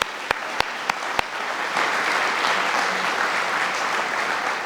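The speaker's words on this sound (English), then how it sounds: "So give yourselves a big round of applause." Sustained audience applause at a city State of the City address, a dense wash of clapping that swells and holds steady after a few sharp claps at the start.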